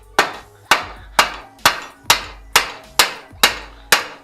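A hammer strikes a part while a nut is refitted during the teardown of a Kawasaki KX 60 dirt bike. Nine sharp, ringing metallic blows land at an even, steady pace, loud and close, with no speech.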